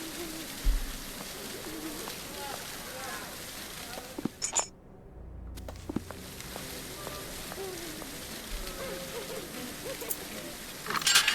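Escaped pigeons in the Sherlock Holmes: The Awakened video game coo and flutter over a busy ambient backdrop, with a brief near-silent gap midway and faint background voices.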